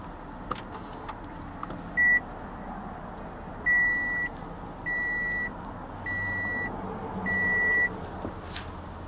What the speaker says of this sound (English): and push the power button